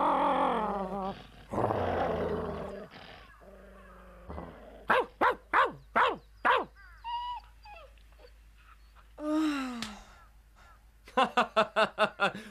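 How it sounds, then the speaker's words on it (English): A stray dog in an animated adventure cartoon barks and growls in bursts, with rapid rhythmic barks near the middle and end, sounding close and fairly loud, no talking. "He's a stray dog with no home to go to"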